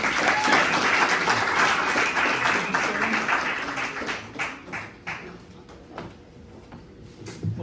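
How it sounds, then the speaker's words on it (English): A comedy club audience gives warm applause for a stand-up comedian, loud and dense at first, then thinning into scattered claps that fade toward the end. "if I could get a nice warm round of applause for my friend"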